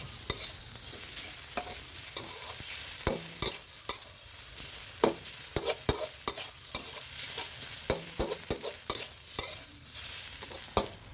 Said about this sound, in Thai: ผัดต่ออีกครั้งครับผมให้กระชายกับพริกแกงเนี่ยเข้ากันหอมนะครับ